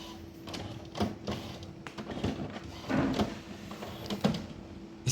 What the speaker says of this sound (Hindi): प्रिंटर ऑन हो गया है और प्रिंटर में से इस तरह की आवाज़ आती है